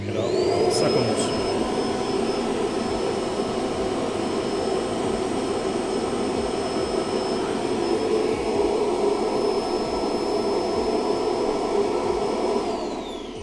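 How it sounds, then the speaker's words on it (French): A Roidmi Eve Plus robot vacuum's docking station empties dirt into its bag with a steady, loud motor roar and a high whine, running continuously for several seconds before winding down. "vous souhaitez que la station aspire directement pour mettre les saletés dans le sac"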